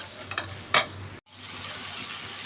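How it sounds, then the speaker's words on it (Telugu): Tamarind extract is stirred into coriander chutney in a pan, with a soft sizzle, a couple of close scraping strokes and a brief break in the sound, and no voices. "చింతపండు పులుసు పోసి కలుపుకోవాలా"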